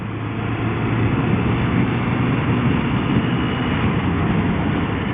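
Steady engine drone and wind rumble from a motorcycle being ridden on UK roads, continuous and fairly loud throughout with no talking.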